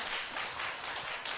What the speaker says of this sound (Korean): 두 분께 박수 부탁드립니다.